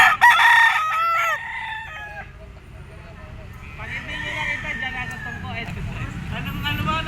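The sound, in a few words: Golden Boy sweater gamecock rooster crowing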